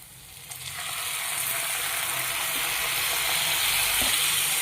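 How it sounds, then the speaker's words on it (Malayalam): Onions and tomato frying in a pan, a broad sizzle that swells louder after the first half second and holds steady, with a faint stirring knock near the end and no speech. "നമ്മുടെ ഉള്ളി നന്നായി വഴഞ്ഞു വന്നിട്ടുണ്ട്. നമുക്ക് തക്കാളി ഇട്ട് കൊടുക്കാം കേട്ടോ."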